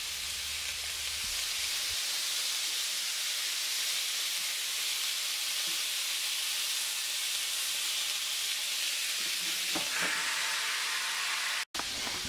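A constant loud sizzle of meatballs frying in a pan without oil fills the whole stretch, steady and hissing, with a brief clink near the end.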